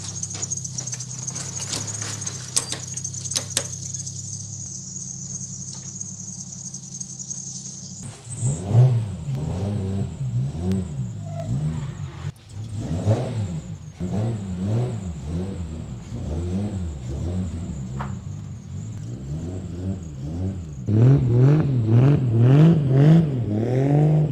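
A Toyota Supra turbo engine idles with a high whine, then revs repeatedly and accelerates, rising and falling in pitch, loud and close.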